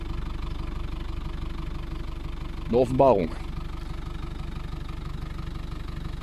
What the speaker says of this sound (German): Das Geklapper und Geknake kommt von dem Auspuff.